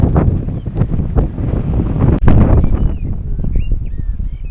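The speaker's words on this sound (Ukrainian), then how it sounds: "Вітер чути який." Strong wind roars and buffets the microphone in a constant heavy rumble, with a few faint chirps coming through near the end.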